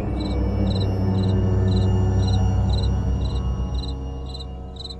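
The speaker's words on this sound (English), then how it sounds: "It's a loud cricket." A loud cricket chirps in a graveyard-themed video game, short chirp bursts repeating evenly about every half second over a low droning ambient bed, with no talking.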